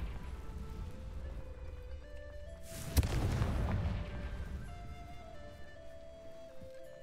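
Confringo spell in the video game Hogwarts Legacy bursting into a single sudden blast with a rushing roar that fades over a few seconds, heard over quiet game background sound.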